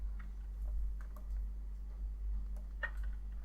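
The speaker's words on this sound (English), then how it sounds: "Just type something in and hit enter." Keys tapped on a computer keyboard, a sparse run of faint, irregular clicks ending in a slightly firmer press, close by over a low steady hum.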